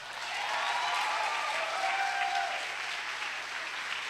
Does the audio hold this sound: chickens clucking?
no